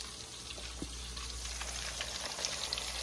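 Baby back ribs coated in flour fry in hot grease with a faint, steady crackling sizzle over a low background hum.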